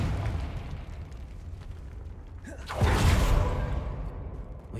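A Confringo spell explodes in Hogwarts Legacy: a whooshing burst lands midway as a loud, broad blast, then decays into a rumbling tail over steady background ambience.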